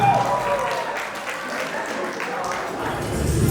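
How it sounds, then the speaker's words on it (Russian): Audience at a 2022 school graduation evening applauds in dense, steady clapping, loud and close, with voices mixed in throughout. "под ваши бурные аплодисменты, внимание на экран"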